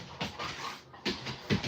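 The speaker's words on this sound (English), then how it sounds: "The noise you hear are the dogs" Dogs at home whimpering and whining, eager to go outside, a few short, close, uneven bursts of fretful yips and whines broken by brief pauses.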